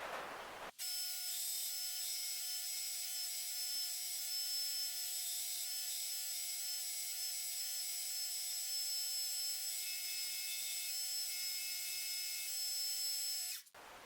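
A power sander runs steadily with a whining hum while a Damascus kitchen knife handle is shaped with 60 grit. It starts abruptly and stops after about thirteen seconds, with no talking.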